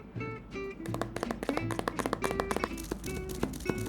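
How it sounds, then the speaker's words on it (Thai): An Ulanzi flash trigger is tapped by hand in a quick, uneven series of sharp, close clicks and knocks that keep going for several seconds over a soft tonal background. "มันต้องเคาะอย่างนี้ด้วยวะ"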